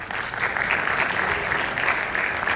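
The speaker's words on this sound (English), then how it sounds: "So give him a round of applause." A room of attendees at a military counterintelligence training session claps steadily, a dense, even burst of applause heard close and without pause.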